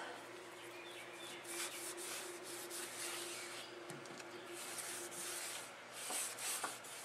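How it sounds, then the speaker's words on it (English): A cloth soaked in isopropyl alcohol wipes residue off a sanded trekking pole, making a soft, faint, continuous rubbing and scuffing sound up close. "take a little isopropyl and remove any residue."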